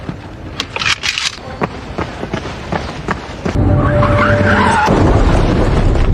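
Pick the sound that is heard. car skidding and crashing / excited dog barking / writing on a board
car skidding and crashing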